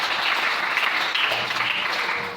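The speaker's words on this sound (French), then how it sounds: "Est-ce qu'on peut acclamer le Seigneur?" A church congregation applauds the Lord with steady, dense clapping that carries unbroken through the whole stretch, fairly loud and without pause.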